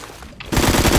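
Loud burst of rapid automatic gunfire in a video game, a rattling string of shots that starts abruptly halfway through and continues to the end, close and harsh.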